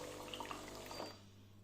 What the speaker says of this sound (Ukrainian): Спочатку йде пар. Як стабільно пішла вода, ось як на відео, то все можна виключати воду.